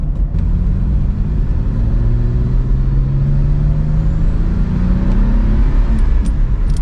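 A 1992 Dodge Stealth R/T twin turbo drives at night, recorded from inside the cabin, with a loud steady engine drone whose pitch slowly rises under acceleration, and no one talks.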